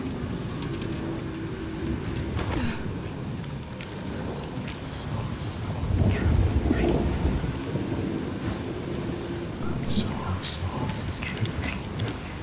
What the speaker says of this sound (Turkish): Fırtına çok mu güçlüymüş vay arkadaş.